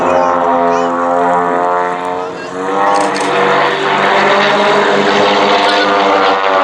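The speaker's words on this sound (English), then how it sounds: "Wildcat barrel roll, with Wildcat 2 lying astern behind Wildcat 1." Grumman Wildcat propeller fighters at the East Kirkby airshow in Lincolnshire, one trailing the other through a barrel roll, their large radial engines producing a loud, continuous droning roar that wavers in pitch as they pass close by.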